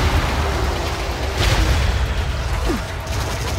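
Rockets and scarab bombs explode in the shooter game Sanctum 2 as a loud, continuous wash of overlapping booms and blasts, with a few sharper bursts standing out.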